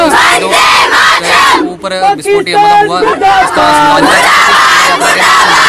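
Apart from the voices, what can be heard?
student protest crowd shouting slogans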